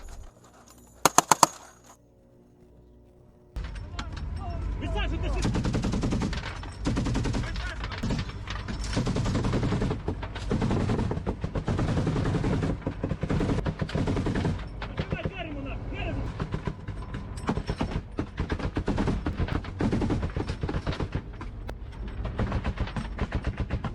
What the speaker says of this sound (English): In the turret, a soldier fires a .50 caliber machine gun with precision